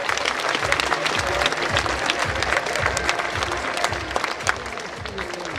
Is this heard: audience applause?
yes